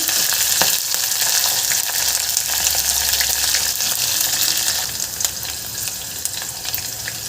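Thinly sliced onions and green chillies fry in a hot pan, a steady, loud, dense sizzle running throughout with occasional crackles and a few stirring scrapes.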